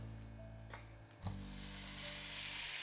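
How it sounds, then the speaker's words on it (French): Meat searing in a good splash of oil in a large sauté pan or wok, a steady sizzle running throughout with a brief louder burst partway as the meat goes in, fairly quiet and close with no talking. "je vais placer un bon filet d'huile. Je vais ajouter la viande."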